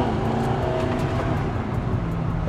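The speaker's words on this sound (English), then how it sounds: "That's a great sounding V8." An Audi R8 supercar's V8 engine rumbles steadily at close range in sport mode, a deep, continuous growl heard from inside the car.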